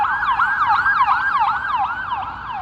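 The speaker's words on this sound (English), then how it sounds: "It's a life care ambulance, actually." A Life Care ambulance siren wails through Memphis on an evening street, its rising and falling cycle repeating steadily and loudly for the whole stretch, with no voices.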